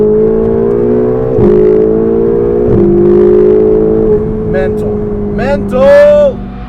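A Ferrari 488 GTB engine under hard acceleration, heard loud from inside the car as its note climbs steadily and breaks twice at quick upshifts. Excited vocal outbursts rise over the engine near the end.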